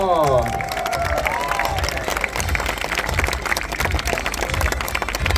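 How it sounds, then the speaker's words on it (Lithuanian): An audience at an international knight tournament in Kaunas applauds the ring referee, a dense crowd of clapping hands sustained throughout, with a few high whistles or cheers early on. "jūsų aplodismentai mūsų ringo teisėjai"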